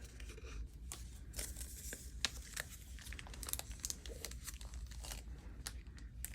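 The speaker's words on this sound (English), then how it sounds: "So let me just cut this off." Paper being cut and handled for a junk journal, a quiet run of crisp snips and crinkly rustles in irregular bursts, close up with no talk.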